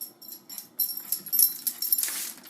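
A dog makes brief whimpering, snuffling noises while choosing basketball matchups, faint and close, rising into a louder rustle near the end.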